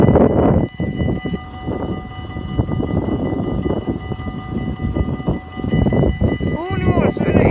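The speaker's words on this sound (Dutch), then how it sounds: "Dat zou de 20ste trein moeten zijn." An Arriva passenger train rolls past at Susteren station in the Netherlands with a loud, sustained rumble and clatter of wheels. A high metallic squeal rises near the end.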